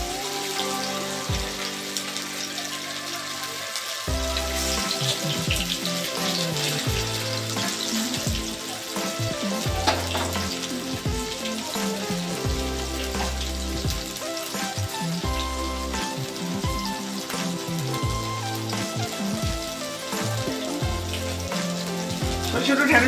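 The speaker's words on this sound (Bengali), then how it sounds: "তেলটা এবার গরম হয়ে গেছে, আমি এবারে ঢ্যাঁড়সগুলো দেবো।" Okra sizzles and fries in hot oil for a Bengali shorshe posto dish, a steady crackling hiss with dense popping that carries throughout, joined by a rhythmic low-pitched musical backing.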